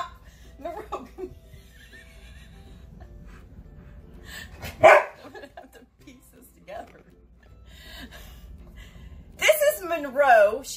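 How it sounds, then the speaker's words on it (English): A 2-year-old Siberian husky gives a few close, whining, howl-like vocalizations, mixed with human speech and laughter in an indoor setting. "she's our 2-year-old Siberian husky"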